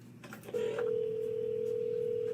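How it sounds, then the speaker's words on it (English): A payphone handset gives a steady, sustained call tone that sets in after a brief rustle and holds evenly, fairly quiet and close. "It's not every day you see a payphone."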